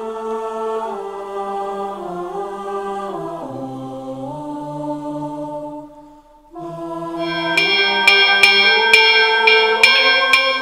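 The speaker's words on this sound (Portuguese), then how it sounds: "Os sinos que ainda batem ecoam por vários cantos." Church bells ring in overlapping, sustained peals, their tones shifting in pitch, then a brighter set of bells strikes in a rapid, regular rhythm.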